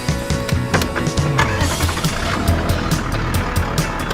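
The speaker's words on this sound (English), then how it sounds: "Now that the winch is back in, I can drive back up this hill" A four-wheel drive vehicle climbs back up a steep hill, its engine droning steadily close by with rumbling tyres and crunching gravel throughout.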